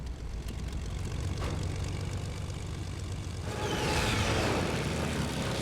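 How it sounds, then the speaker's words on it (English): Video game airplane flying overhead, a continuous propeller-engine drone that swells louder in the last couple of seconds as it passes close. "Here's another plane."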